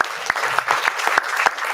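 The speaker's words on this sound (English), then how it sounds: "We'll take some applause for Steve." Audience applause at a live music show in Michigan, a short burst of scattered hand claps from a modest crowd, fairly close and moderately loud.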